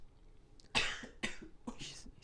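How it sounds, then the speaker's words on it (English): Three or four dry, harsh coughs come in quick succession from someone close by, each a short sharp burst with brief pauses between. "You keep turning towards me and coughing."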